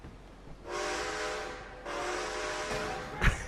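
A train in the video game Red Dead Online sounds a loud steam whistle in two long blasts, each lasting over a second, followed by brief clanking noise at the end.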